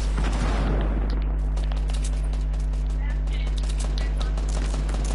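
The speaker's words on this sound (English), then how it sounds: "I threw some grenades." Grenades going off in a video game, with rapid explosive bursts and gunfire-like cracks layered over a heavy constant low rumble, loud throughout, while people talk underneath.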